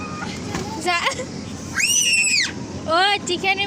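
Children scream in several loud, rising-and-falling shrieks during play at a picnic, broken by chatter and a voice.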